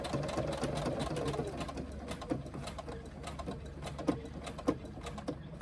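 A sewing machine stitches a seam on a small on-the-go pouch, its motor humming close by in a low steady drone broken by a few sharp clicks and knocks as the fabric is manoeuvred.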